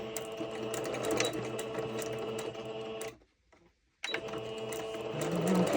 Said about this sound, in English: Maybe I'll just sew 1 line.